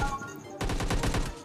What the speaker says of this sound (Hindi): ये बंदा फायर करता है बट मैं वहाँ से निकल जाता हूँ